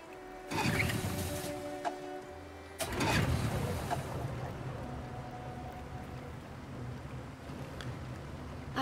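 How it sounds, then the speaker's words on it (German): A boat engine in the video game Detroit: Become Human cranks with two rough bursts, then settles into a steady low rumbling idle, fairly quiet throughout. "Lass uns den Motor starten."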